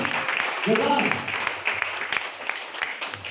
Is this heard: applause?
yes